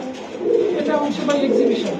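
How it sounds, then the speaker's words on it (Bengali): Exhibition pigeons coo close by in a low, throaty, rolling burble, with a person's voice mixed in. "বাইরে যে কবুতরগুলো আমি দেখাইলাম এটা কি কবুতর দাদা"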